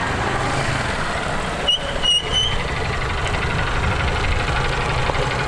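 A big, punchy motorcycle engine runs steadily during a drift lesson, with a loud, close rough drone and a brief change in tone partway through.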